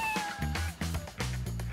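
A human voice imitates a cat's meow during a New Year holiday game show, a few drawn-out mewing calls over background music and studio noise.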